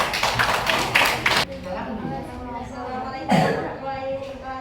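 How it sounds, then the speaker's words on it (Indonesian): A class of students claps for a group during a sixth-grade math lesson, a loud burst of rapid clapping in the opening second and a half that stops abruptly, followed by a teacher speaking and a few scattered taps. "tepuk tangan dulu untuk kelompok 1"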